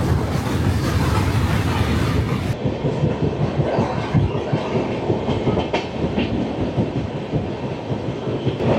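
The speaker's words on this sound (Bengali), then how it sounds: "এই আমাদের ট্রেন পার করছে আমবাসা স্টেশন" Garib Rath Express rolling through Ambassa station, heard from on board as a loud, continuous rumble with rhythmic clickety-clack of wheels over rail joints and no talking.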